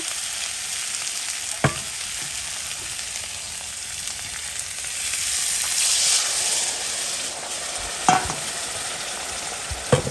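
Steady sizzle of hot oil frying, with occasional sharp spatter bursts and clinks of a utensil; no voices.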